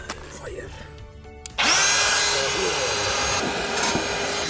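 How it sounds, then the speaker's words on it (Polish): A blower on a homemade foundry furnace kicks on after a quieter opening, then runs as a loud, steady whirring roar close by. "I tu dmuchawa będzie. Odpalamy dmuchawę."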